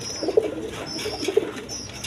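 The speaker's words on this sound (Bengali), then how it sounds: "এখানে এক পেয়ার হলুদ কালার আপনার গররা কবুতর আছে" A pair of yellow gorra pigeons make soft low coos close by, two brief calls about a second apart over faint background noise.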